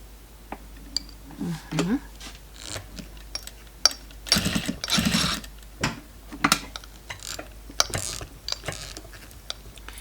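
A sewing machine stitches brown patchwork pieces, its motor running in short uneven bursts with mechanical clatter and clicks, while someone talks over it.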